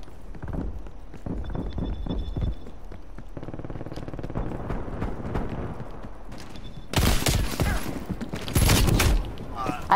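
Gunfire in a shooter video game, with loud bursts of shots near the end over busy in-game noise and earlier rapid footstep-like clatter, heard up close with no clear talking.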